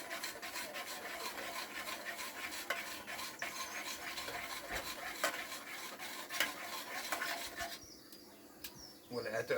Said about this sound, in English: Give her a quick stir.